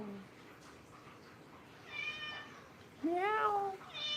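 A cat meows several times, a faint first call followed by two louder, drawn-out, rising meows close to the listener in a quiet room.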